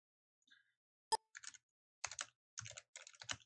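A few short bursts of computer keyboard typing as a Linux command is entered, with clear, close keystrokes separated by brief pauses in an otherwise quiet room.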